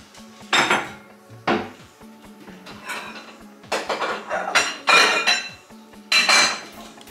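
Dough being mixed in a large bowl with a wooden spoon, a series of irregular knocks and scraping clatters against the bowl, close and moderately loud, with pauses between strokes.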